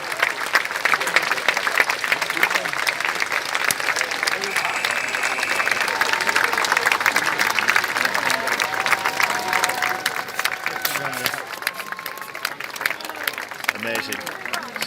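A sustained round of applause from a crowd at a Defend Our Juries protest, with thick, even clapping that carries on steadily, while scattered voices and calls rise through it.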